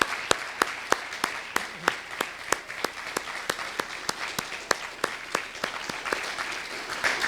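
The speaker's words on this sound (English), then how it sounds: "please join me in giving all of the students a last round of applause and appreciation for all they've done" Audience applauding students at a flash talks event, sharp distinct claps in a fairly regular rhythm, suggesting a small group or a few nearby clappers, with light crowd noise beneath.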